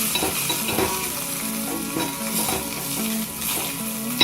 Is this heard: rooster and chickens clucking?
no